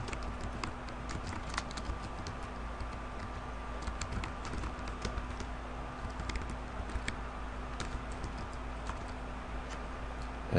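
Steady typing on a computer keyboard, with scattered light key clicks in an irregular rhythm over a constant low electrical hum.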